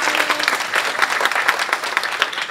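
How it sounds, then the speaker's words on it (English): Audience applause at a community-program event on engaging students, a dense, steady wash of many hands clapping close and loud for the whole stretch, with no talk over it. "So a big applause to everybody who is here."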